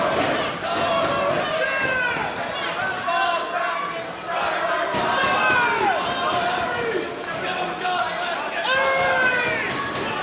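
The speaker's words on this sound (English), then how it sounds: "Crowd chanting." A wrestling arena crowd chants rhythmically in repeated waves through a four-way match between Jerry Lynn, Bryan Danielson, Tyler Black and Austin Aries, loud and sustained, with shouted calls rising above the steady roar.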